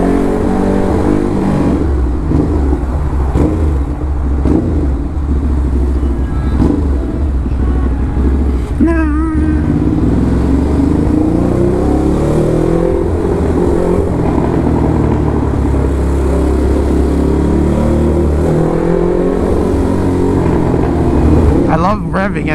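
A carbon-fiber-bodied Ducati Hypermotard motorcycle engine drones loudly and continuously on city streets, with rising rev sweeps around the middle and again near the end, while a person talks over it.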